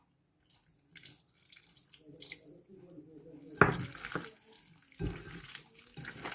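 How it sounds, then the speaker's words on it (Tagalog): Water poured into a beef stir fry in a pan, heard as short splashing and trickling bursts close by, with quieter clatter between them. "maglalagay din po tayo ng 2 tablespoon of water"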